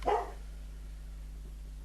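A guard dog barks briefly indoors, a short burst of one or two barks near the start before the room settles into a quiet hum.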